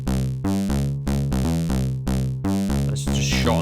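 Elektron Syntakt bass patch built from two VCOs with the drive turned up, playing a looping sequence of short, punchy, overtone-rich bass notes in a steady rhythm, with a gritty noisy swell near the end.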